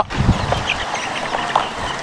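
Kadaknath chicks cheep in short, high peeps close by, with low clucking from grown hens mixed in.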